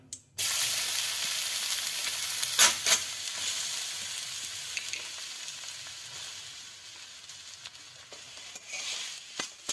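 Grated cauliflower fries in ghee with bay leaves, a steady bright sizzle with occasional stirring scrapes and clatters, loud at first and easing slightly over time.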